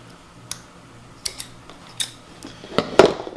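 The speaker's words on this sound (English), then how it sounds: "So I think we can cut through the hot glue." A few sharp snips of scissors cutting through firm hot glue on a paper craft, scattered irregularly, close and fairly quiet.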